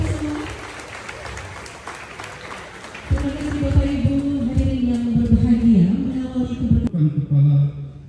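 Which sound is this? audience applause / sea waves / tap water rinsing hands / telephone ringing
audience applause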